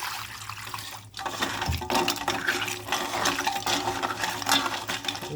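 Charcoal being rinsed in water, with splashing, sloshing and pouring sounds close by after a brief quiet moment, continuing steadily.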